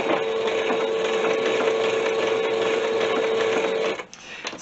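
Fabric is stitched on a sewing machine to form a textile bowl: a loud, steady, whirring hum with a rapid needle rhythm runs continuously, then cuts off, leaving faint handling noise.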